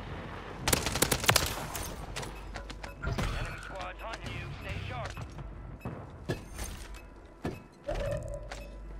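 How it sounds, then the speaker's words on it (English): Incendiary fire shotgun blasts in Call of Duty Warzone Rebirth, several sharp cracks with other gunfire scattered between them, heard under players talking. "I just heard a fire shotgun"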